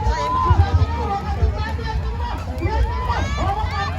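Crowd cheering at a boat race in Nong town, a lively mass of shouting voices close by, with someone talking over the noise.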